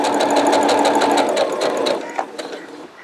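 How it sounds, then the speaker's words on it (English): A sewing machine stitches fabric in a fast, even chatter that runs steadily for about two seconds, then slows and stops, leaving a few faint clicks. "the easy part of this project is actually the sewing part"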